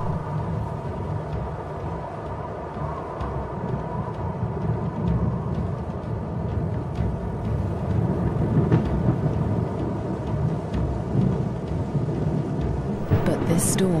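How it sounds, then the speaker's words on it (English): A thunderstorm sweeps over dry savanna grassland: steady rain hisses under low, rolling thunder, building slightly, with a sharp crack close by near the end. "A storm approaches."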